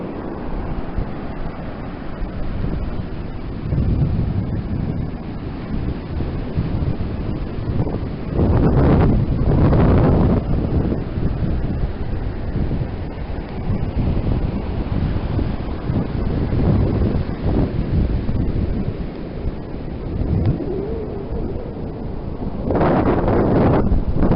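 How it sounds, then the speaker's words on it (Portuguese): Strong wind buffets the microphone at Praia do Rosa beach in Santa Catarina, Brazil, with ocean waves surging and breaking in loud swells over a constant rushing roar, no voices. "Uma maravilha a praia aqui."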